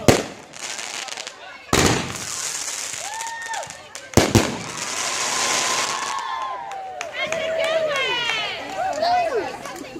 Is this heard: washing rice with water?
no